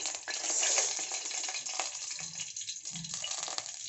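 Dried red chilies tempering in hot mustard oil in a kadai make a steady, close crackling sizzle that swells early, then thins with a few soft knocks, with no talking.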